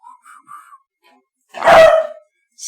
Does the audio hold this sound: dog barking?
yes